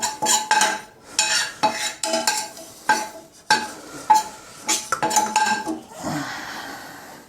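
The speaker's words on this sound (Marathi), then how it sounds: "या पद्धतीने आपलं खोबरं भाजून झालेलं आहे, पाहू शकता" Dry grated coconut roasting in a pan for orange barfi, stirred with a utensil: a close run of repeated scraping and clinking strokes against the metal, fairly loud and uneven, with no voices.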